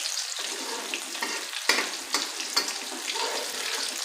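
Chicken zinger strips deep-frying in hot oil over a medium flame: a steady crackling sizzle with bursts of sharper pops, fairly quiet and close, with no talking.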